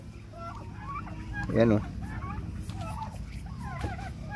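Backyard farm turkeys at feeding time: one loud gobble stands out midway over soft clucking and fowl chatter, with a person speaking briefly.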